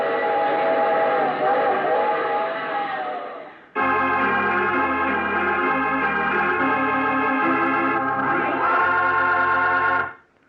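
Train sound effect from a 1948 radio drama: a steady rumbling run topped by a loud, sustained multi-tone steam whistle that sounds twice, close and dominant with no talk.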